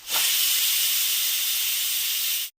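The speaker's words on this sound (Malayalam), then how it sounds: "ഇനി കുക്കർ അടച്ചുവെച്ച് 4 വിസിൽ വരുന്നത് വരെ വേവിച്ചു എടുക്കാം." A pressure cooker vents steam during chicken cooking: a loud, steady, close hiss bursts on abruptly, holds for about two and a half seconds, then cuts off sharply, with no clear whistle tone above it.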